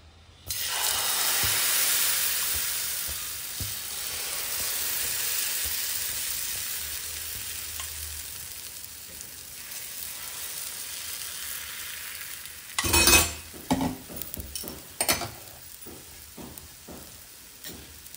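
Corn and tomato omelette batter poured into hot oil in a pan, a loud, even sizzle that holds steady for several seconds, followed near the end by a few sharp clatters of a utensil against the pan.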